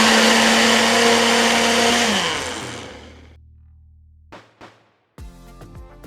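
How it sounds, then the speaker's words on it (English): A blender whirs loudly through a chamoy vinaigrette with honey, a steady high roar that winds down over a couple of seconds, followed by a few brief clunks and rattles. "then we're going to blend"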